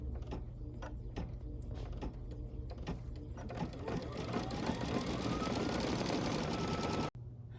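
Embroidery machine stitching a tack-down on a quilt block, starting with rapid clicking needle strikes and building into a dense whirring stitching sound that stops abruptly near the end.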